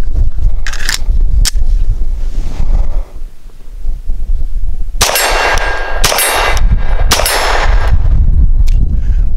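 Langdon Tactical 92 Elite LTT pistol shooting light 90-grain Winchester Super Grain zinc-core rounds outdoors, a few sharp loud cracks with ringing clang-like tails, spaced irregularly over wind noise.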